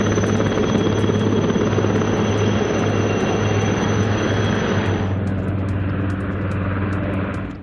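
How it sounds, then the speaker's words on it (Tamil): An Indian Air Force Prachand helicopter flies close by, its rotor and engine making a loud, steady roar throughout, with a high whine that cuts out near the end. "இந்திய வரலாற்றில் முதல் முறையாக விமானப்படையின் பிரச்சந்த் ஹெலிகாப்டரில் குடியரசுத் தலைவர் திரௌபதி முர்மு பறந்தார்."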